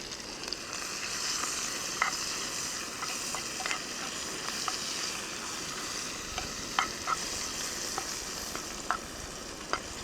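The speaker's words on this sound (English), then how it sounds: "Let's get the mushrooms in the pan." Mushrooms fry in a pan over an open flame on a backpacking stove, making a soft continuous sizzle broken by scattered crackles and pops, fairly faint and without talk.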